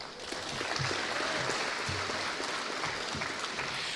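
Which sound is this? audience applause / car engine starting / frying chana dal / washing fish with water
audience applause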